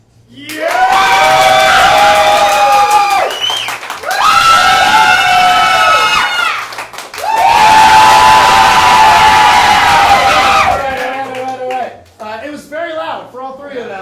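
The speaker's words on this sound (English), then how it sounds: "applaud, scream, stomp, and cheer for the person you feel like deserves to win" An improv comedy audience at a Whose Line show screams and cheers in three loud, sustained bursts, swelling and cutting off between waves of crowd noise, with brief chatter at the end.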